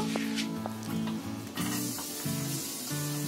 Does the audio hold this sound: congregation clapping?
no